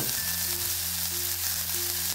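Turmeric powder frying in hot oil in a pan over a lowered gas flame gives a steady close sizzle with a faint background hum, alone and unbroken for a couple of seconds.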